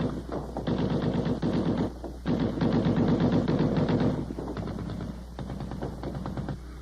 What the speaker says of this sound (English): One weapon we get to know very well was the 50 caliber machine gun.